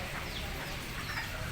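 Kate bantam chickens cluck softly in the rainy season, a steady low farmyard murmur with faint bird calls over a constant wash of background noise.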